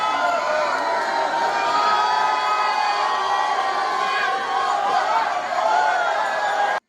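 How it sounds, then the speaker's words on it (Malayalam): Loud, continuous crowd cheering and whooping at the Thrissur Pooram flag hoisting, a dense festival roar of many voices holding steady throughout with occasional shouts rising above. "11:30 ആർപ്പുവിളികളുടെ അകമ്പടിയിൽ കൊടിയേറ്റം."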